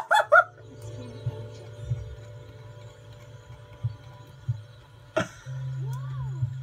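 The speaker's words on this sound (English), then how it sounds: "I can hear a heartbeat." A heartbeat in the Sonic Dreams Collection video game thumps as a low, soft lub-dub in repeating pairs under a steady hum. A brief voice cuts in at the start and again near the end.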